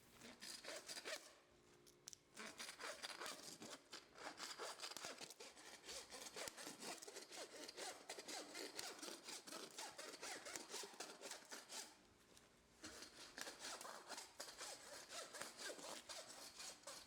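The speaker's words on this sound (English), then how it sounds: "You can see how he follows the cutting line and saws through each rib." A saw cuts through the ribs of a game meat carcass in steady back-and-forth strokes, rasping and close, with a brief pause partway through and no talking.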